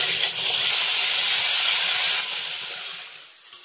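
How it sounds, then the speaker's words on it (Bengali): Loud, steady sizzle and hiss of ripe tomato paste hitting hot oil with fried cumin in a pan, close up, fading slightly toward the end with a small clink. "আর এবার আমি এই তেলের ভিতরে দিয়ে দেবো মিডিয়াম সাইজের 2টো পাকা টমেটো পেস্ট"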